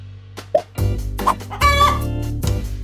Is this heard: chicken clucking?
yes